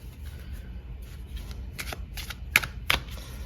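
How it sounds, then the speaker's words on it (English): An Aphrodite Love Oracle tarot deck being shuffled by hand, a quick run of close papery riffles and flicks with two sharper card snaps near the end. "Let me get you the Aphrodite deck."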